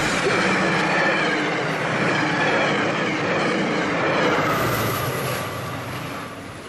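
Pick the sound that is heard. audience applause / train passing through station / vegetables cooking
train passing through station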